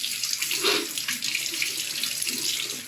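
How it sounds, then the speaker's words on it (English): Tap water runs into a sink to rinse off after a wet shave with a safety razor, a close, continuous splashing gush with small bursts as hands move through the stream. "But now I'm going to rinse, because I'm calling this done."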